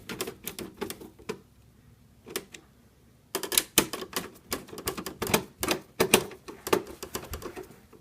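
A Phillips head screwdriver tightens screws while a graphics card is being fixed in a computer, giving crisp, irregular clicking and ticking in quick bursts. A short lull comes before a denser run of clicks, faint and close, with no voices.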